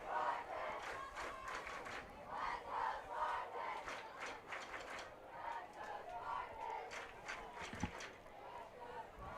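Crowd at a high school football game in Emporia, Pittsburg High against Emporia, a broad murmur of voices with rising and falling shouts and cheers, fairly distant, mixed with nearby talk.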